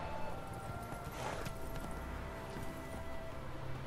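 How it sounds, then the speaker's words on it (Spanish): Horse hooves clip-clop toward the player in The Witcher 3 video game, a steady rhythmic trotting over a constant, fairly loud game-audio bed with no talking. "Vamos a llamar al caballo"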